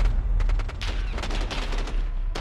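Rapid gunfire in the video game Call of Duty Modern Warfare, dense bursts of automatic shots crackling close and loud over a low rumble, with no talk over them.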